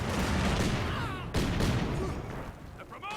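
Two rifle flamer squads fire in Company of Heroes 2. A dense, continuous roar of gunfire and battle noise runs throughout, with crackling bursts, and speech is heard over it.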